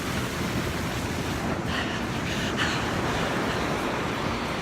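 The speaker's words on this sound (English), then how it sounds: "Listen to the water from the river comes out and empties into the ocean" A broad, steady roar of river water pouring out into the Pacific Ocean at low tide, loud and continuous, with no voices.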